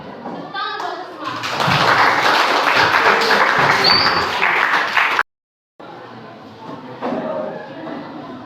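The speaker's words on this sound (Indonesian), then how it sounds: "Tepuk tangan buat semua" Classroom applause as students clap for each other during a microteaching lesson, a burst of dense hand claps that stops abruptly, with children's voices talking over it.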